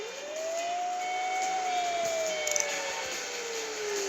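A fire truck siren wails in one long rising and falling sweep, clear and fairly close over a steady road hum, with no talk.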